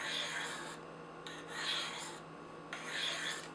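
A knife blade is drawn in light alternating strokes across a Spyderco Sharpmaker stone, giving three close, soft scraping rasps with short pauses between them.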